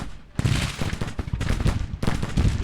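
Cannon fire from Civil War artillery in the Grand Tactician strategy game. Three long, rumbling volleys roll in one after another, each a dense wash of overlapping reports at moderate distance, with no talk.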